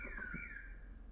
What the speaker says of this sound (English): I guess the car alarm had the answer, but I don't even know what the car alarm says